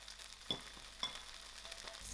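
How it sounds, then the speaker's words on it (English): Five pieces of halloumi cheese fry in a pan: a faint, quiet, even sizzle with two soft clicks early on, and no talking. "I'm going to start frying my cheese"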